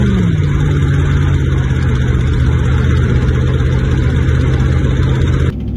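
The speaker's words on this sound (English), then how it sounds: "Right now I'm driving it to my buddy's shop so I can use his hoist with no drive shaft in it" A Dakota truck driven with no drive shaft fitted, its engine running at a steady hum with a constant drone that continues unchanged, then drops in level at the very end; no talking.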